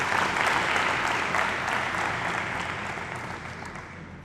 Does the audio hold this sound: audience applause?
yes